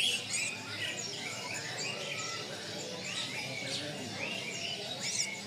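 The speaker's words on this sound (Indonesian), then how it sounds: "Salah satunya koning seperti ini ya, dia munculnya itu pas awal-awal musim hujan." Koning birds held in cages at a busy bird market chirp and tweet continuously, with many overlapping calls over a steady wash of market background noise.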